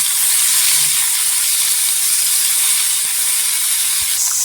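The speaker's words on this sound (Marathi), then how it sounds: "10 ते 15 मिनिटं पूर्णपणे तव्यावर छान असं परतून घ्यायचं" Potatoes sauté on a hot griddle pan, giving a steady, close, bright sizzle and hiss that stays even and unbroken throughout, with no voices.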